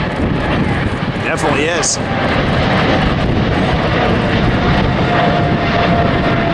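A jet airliner takes off at LAX with a loud, sustained engine roar that stays close and steady throughout, while someone speaks briefly near the start.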